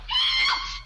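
A woman's high, sustained scream in a radio drama thriller, loud and continuous for nearly the whole moment, trailing off and cut by a sharp burst at the end.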